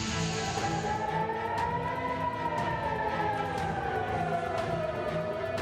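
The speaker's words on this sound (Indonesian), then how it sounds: "video amatir memperlihatkan suara sirine peringatan serangan udara di Bandara Ben Gurion, Israel" An air raid warning siren wails at Ben Gurion Airport in Israel, a faint, steady rising and falling tone heard alone.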